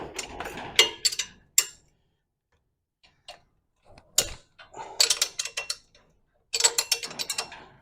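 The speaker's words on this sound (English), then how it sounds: "Slide my wrench in, grab the outside of the bolt." A wrench works on the bottom chain adjuster bolts of a 110-125cc ATV, giving bursts of close metallic ratcheting clicks separated by short quiet gaps.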